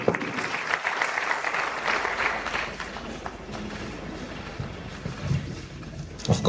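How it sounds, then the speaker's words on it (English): An audience claps together at a sector-wide engagement and performance dialogue meeting in Plateau, a dense, rolling round of applause that swells and fades slightly over several seconds. "may we applaud her more, please"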